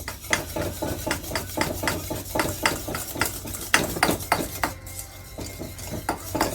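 A whisk beats hot chocolate pie filling in a bowl, quick rhythmic metallic clinks and scrapes repeating steadily against the bowl, close and clear with no talking.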